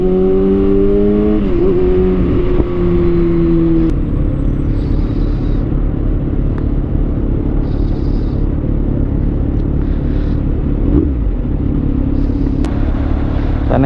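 A motorcycle rides through city traffic near Divisoria, its engine a loud continuous rumble throughout, with a brief rise in revs early on and faint horn-like tones in the background.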